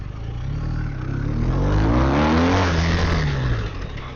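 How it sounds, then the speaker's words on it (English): A police motorcycle engine roars loud and close, rising then falling in pitch as the rider goes from a wheelie into threshold braking during a competition technique run. "I'm going from a wheelie to threshold brakes, and that's a dangerous transition."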